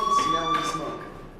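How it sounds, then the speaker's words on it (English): A fire alarm in the video game Life Is Strange rings with a steady high electronic tone, moderately loud, while a voice talks over it. "do you hear that fire alarm?"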